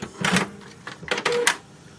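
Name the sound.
Canon Pixma MG3600 printer ink cartridge carriage moving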